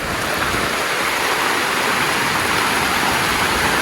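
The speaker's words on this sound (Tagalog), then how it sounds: "napakalakas po ng ulan dito" Heavy rain pours down in a dense, continuous roar, loud and unbroken from start to finish.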